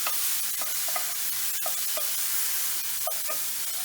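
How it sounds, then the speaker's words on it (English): Mushrooms browning in a hot pan, a loud continuous sizzle and hiss with quick, repeated stirring scrapes and light taps throughout. "carry on cooking those mushrooms and continue to brown"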